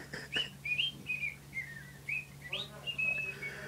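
A parrot whistles a short, wavering tune, the old Archers theme, in clear separate notes, fairly close, over a faint low hum.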